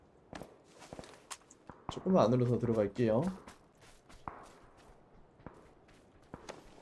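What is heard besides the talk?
footsteps in a video game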